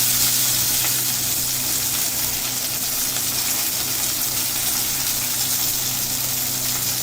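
Chopped onion sizzles steadily in hot oil with mustard seeds and curry leaves, a close, continuous frying hiss with no break.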